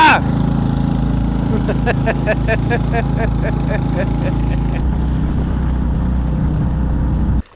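A small boat motor sputters and struggles on a river in the Brazilian rainforest, its loud, steady low drone running with a rhythmic knocking before dropping off near the end, while people talk over it.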